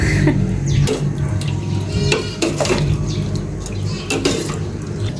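Metal spoon scraping and clinking against a cooking pot while stirring in chicken and Knorr pork cubes, repeated clanks over a bubbling simmer.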